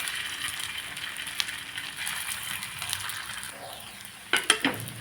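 Semolina dumplings frying in hot oil give a faint steady sizzle and crackle, broken near the end by a few sharp clinks of a utensil against the pan.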